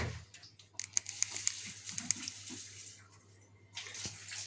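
Hot water running from a tap supplied by a Beretta Ciao gas boiler, a steady broadband hiss and splash with a few sharper drips and knocks, fairly faint, with no talk over it.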